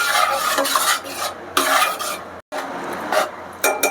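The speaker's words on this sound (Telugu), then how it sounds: "ఈ పెరుగు కూడా మన ఆయిల్ అంతా కూడా పైకి తేలేంత వరకు ఇలాగా మంచిగా వేయించుకోవాలి" Curd frying in hot oil in a pan for a Mughalai egg curry, stirred in steady scraping strokes with short pauses, close and fairly loud, with no talk.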